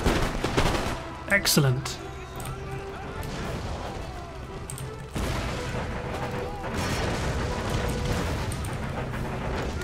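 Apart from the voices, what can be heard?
musket gunfire from frontiersmen in Empire Total War video game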